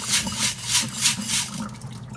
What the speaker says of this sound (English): Lukewarm to cold water. Once again, fill it right to the top, and you will shake it vigorously.